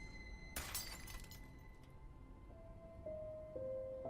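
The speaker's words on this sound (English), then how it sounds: "And then I heard glass break." Glass shatters in one sudden, loud crash with a spray of bright tinkling fragments that fades within about a second, followed by faint lingering tones, with no voices.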